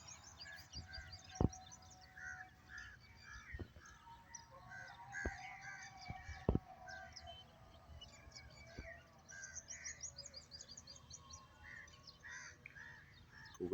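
Crows gather and caw near irrigated village fields, with scattered calls and a few sharp knocks over quiet outdoor ambience.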